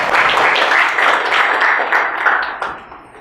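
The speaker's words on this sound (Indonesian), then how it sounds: "Ya, tepuk tangan." A class of students clapping hands in a classroom, a loud, fairly near burst of rhythmic claps that pulses steadily and then tapers off toward the end.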